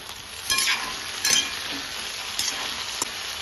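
A pan of brinjal curry sizzles and bubbles steadily close by, with a few louder stirring scrapes and crackles rising over the continuous frying hiss.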